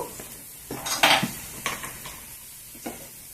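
Utensil scraping and clattering against a pan while onions fry for a Telugu-style ladies finger (okra) fry, several distinct stirring knocks spread over a few seconds with a faint sizzle underneath, no talk.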